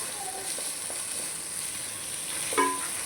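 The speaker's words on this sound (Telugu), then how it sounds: "కందిపప్పు వేసుకున్నాం కదండి, కలిపేసుకున్నాం. కొంచెం వేగాలన్నమాట పప్పులు." Toor dal (pigeon pea lentils) frying in a pan for Telangana-style pappu kura, a steady soft sizzle with a few faint scrapes of stirring, ending in a brief louder clink near the end.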